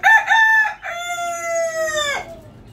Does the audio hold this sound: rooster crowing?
yes